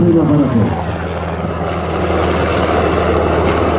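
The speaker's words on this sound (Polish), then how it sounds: "Tak wygląda gaszenie pożaru w wykonaniu policyjnego śmigłowca" A Polish police Sikorsky S-70i Black Hawk helicopter's rotor and engine roar steadily throughout, loud and close, with a low rhythmic thrum underneath.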